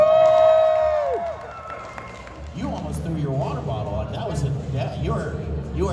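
An audience at a live card-trick and comedy show cheers and whoops after a short whistle-like tone, with a lively spread of shouting voices and crowd noise.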